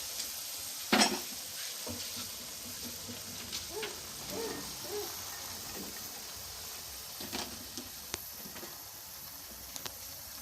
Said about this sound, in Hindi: अब हम इसमें सब्ज़ी डाल देंगे।